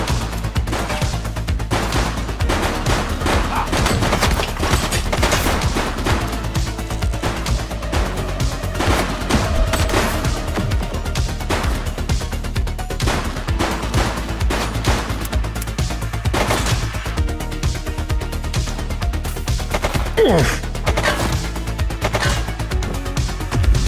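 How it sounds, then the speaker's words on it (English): Rapid bursts of gunfire and impacts in the police video game The Precinct keep up a constant loud barrage throughout, with dense repeated shots and occasional crashes. "Shots fired!"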